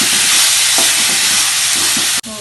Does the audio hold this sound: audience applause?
no